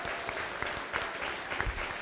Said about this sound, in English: Let's have a round of applause for all of our teams competing today again